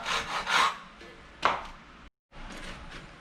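A hand saw rasps through a large piece of wood held on a Workmate 125 workbench, in several uneven back-and-forth strokes, close by, with a brief pause before the sawing resumes.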